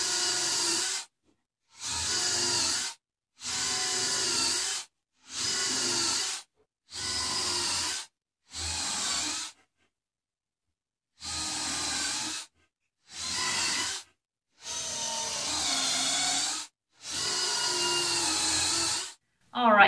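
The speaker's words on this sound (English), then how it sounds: "we'll go ahead and drill some pilot holes and countersinks for our screws" A power drill bores pilot holes and countersinks in wooden guitar-stand parts, running in about eleven loud, even whirring bursts of a second or so, each followed by brief silence.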